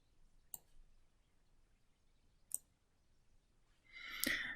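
Two sharp, isolated computer mouse clicks spaced about two seconds apart during navigation in StatCrunch, followed by a brief louder burst of noise, with no talking.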